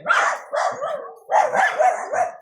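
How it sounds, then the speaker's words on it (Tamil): A dog barks in two close, loud bursts of repeated barks, rough and excited as if squaring up to another dog, in a village in Sri Lanka. "அந்த நாய்கிட்ட சண்டைக்கு போகிறதே வேலை ராக்ஸிக்கு"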